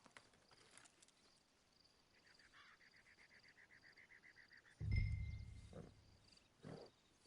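Horse hooves clip-clop in a quick, even rhythm in Red Dead Online, moderately close and faint, followed by a heavier low thump.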